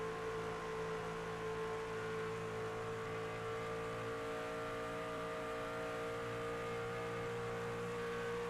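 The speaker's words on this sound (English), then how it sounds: "We hear these drivers pretty much wide open all the way around the track." Race truck engines at full throttle in an iRacing Shoney's Truck Series online race, a steady loud droning roar with sustained tonal whine and no talk.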